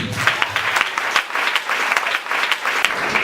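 A church congregation applauds and cheers for the Lord, dense clapping from a crowd with a few louder claps standing out through the short burst.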